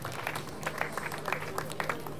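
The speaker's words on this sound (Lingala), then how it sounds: "On acclame très très très fort" A crowd gathered at a cemetery funeral applauds, a steady spatter of many hands clapping at moderate distance for a couple of seconds.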